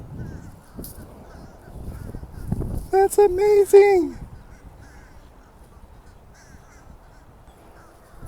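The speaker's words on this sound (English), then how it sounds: "Check out this bird. It's got a fish in its mouth." A bird carrying a fish in its mouth gives a loud, honking, crow-like call lasting about a second, rising clearly above outdoor background noise, with a person speaking briefly nearby.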